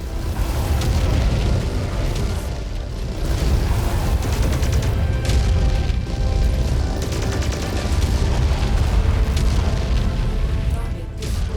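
Incoming missiles pound a mech in the Mechwarrior 5: Mercenaries video game, a dense, loud, continuous barrage of rumbling booms and mechanical clatter that stays heavy from start to finish with no break.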